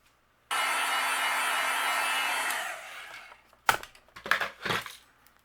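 A heat tool melts white embossing powder on a stamped card: a steady, close blowing whir runs for about two seconds, then fades. A few loose rustles and bumps follow.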